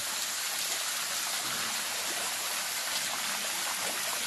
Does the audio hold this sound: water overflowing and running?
yes